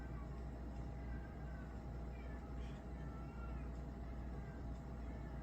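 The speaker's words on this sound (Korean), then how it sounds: "지금 고양이 소리가 깡깡 들려." A cat meows a few times, faint and distant, the drawn-out cries barely rising above a steady low hum of background noise.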